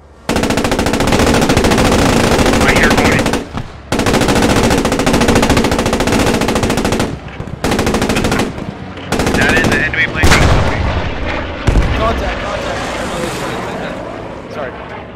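Panzer IV tank machine gun in the World War 2 game Post Scriptum raking a hedgerow: loud, close, sustained bursts of rapid fire broken by short pauses, with engine rumble and voices talking over it.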